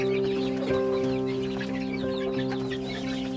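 Backyard chickens cluck and cackle nearby in a busy farm setting. A steady mechanical hum runs underneath throughout, and there is no speech.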